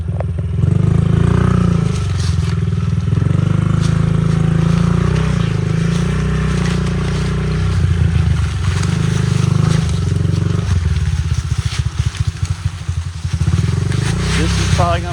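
A dirt bike engine idles nearby with a steady, loud low rumble that wavers and sputters slightly midway, while people talk over it.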